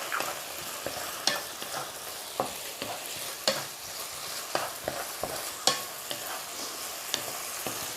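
Pork with basil fries in an iron wok, a steady faint sizzle broken by regular scraping clacks of a spatula stirring and tossing, with no talk.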